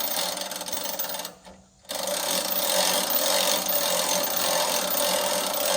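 A Woodland Mills HM130MAX sawmill cutting a yellow pine log about 16 inches across, a loud continuous rasping band-saw whine with one brief drop in the middle before the cut resumes at full strength.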